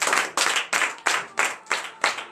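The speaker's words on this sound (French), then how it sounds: "Je demande encore d'applaudir très très fort ce grand Dieu." Loud rhythmic clapping from a church congregation at a morning prayer service in Benin, about seven sharp, evenly spaced bursts of many hands striking together in unison, close and without talk.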